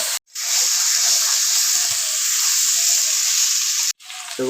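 Potatoes frying in a pan while being stirred with spices for a chicken dish, a loud close hissing sizzle that runs steadily, cut by two short silent gaps and a scrape of stirring near the end.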